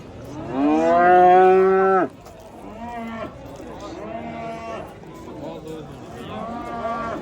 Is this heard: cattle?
yes